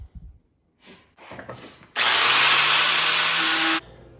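A 4.5 inch angle grinder with a 5-inch backer pad and ceramic fiber disc grinding a tool steel bowl gouge: after a few light handling knocks, a loud, close, steady grinding whine runs for about two seconds, then cuts off.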